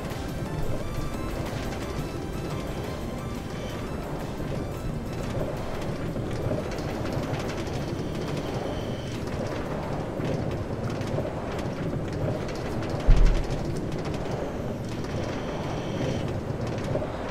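A Minecraft minecart rolls along rails with a continuous rumbling clatter, steady and fairly loud, with one sharp knock near the end.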